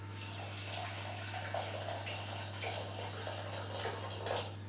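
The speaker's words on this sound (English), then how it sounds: "All you do is pour boiling water on top" Boiling water from a kettle pours steadily over food being prepared for a quick evening meal, a continuous splashing trickle set against a constant low electrical hum, no speech.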